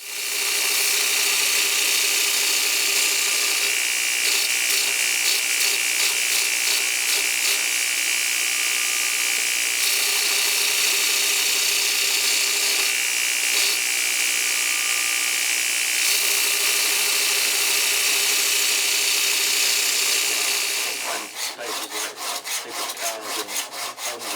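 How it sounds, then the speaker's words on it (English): Surface grinder working a Damascus twisted steel knife, a loud, steady abrasive grinding whine with rhythmic passes that runs throughout, changing to a coarser rattling texture near the end. "So what I've got to do now is grind this this knife down. I'm just going to put it on the surface grinder."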